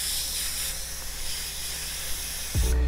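An airbrush sprays paint onto a T-shirt for a graffiti design, producing a steady close airy hiss throughout, with a brief clunk at the end as the spray stops.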